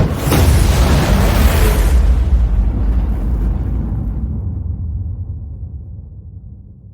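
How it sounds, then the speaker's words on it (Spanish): A loud explosion sound effect in a Spanish-language fantasy audiobook bursts at full force, then leaves a deep rumbling roar that slowly fades over several seconds, with no voices. "Lo que siguió después fue una explosión aterradora."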